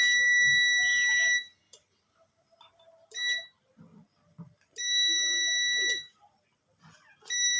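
A continuity tester's loud, shrill electronic beep sounds across the normally closed and common contacts of a Dungs gas pressure switch as pressure builds, coming in several long and short bursts that cut off and restart, with faint handling clicks between.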